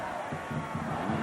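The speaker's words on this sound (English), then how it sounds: "Well-deserved round of applause" Crowd noise at a 1997 Oklahoma versus Nebraska college football game, a steady stadium roar with rising cheers, continuous and fairly loud throughout.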